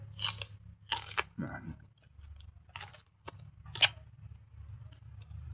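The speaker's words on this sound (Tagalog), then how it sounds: "kain tayo ng balat ng saging" Close, wet bites and crunchy chewing on a ripe banana peel eaten raw, a few distinct crunch bursts separated by quieter chewing pauses.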